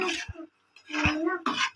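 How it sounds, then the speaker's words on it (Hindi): A spoon scrapes and clinks against a pot while semolina halwa with added water is stirred, in a few short, close bursts separated by brief pauses. "इसको हिला देंगे अच्छे तरीके से,"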